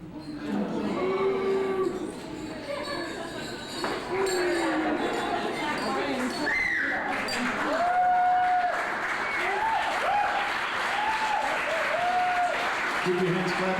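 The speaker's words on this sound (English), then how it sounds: "Keep your hands clapping for the father of the bride, Jan Viara." Wedding guests applauding at a reception in New York, steady clapping of a moderate crowd under a speaker's amplified voice, with scattered cheers and whoops rising over it.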